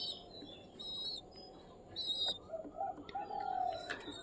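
Pigeons coo softly at close range in a home loft, a few low murmuring calls over faint background chirps, with brief higher bird notes early on.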